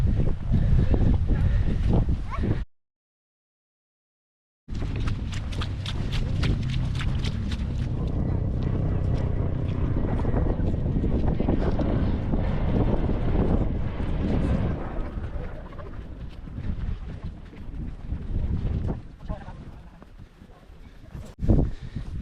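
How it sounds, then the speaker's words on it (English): Chilly breeze sweeping across the Moel Famau hilltop in Wales, roaring and buffeting the microphone in loud, steady gusts with one brief dropout to silence near the start. "Bit of a chilly breeze, but can't complain."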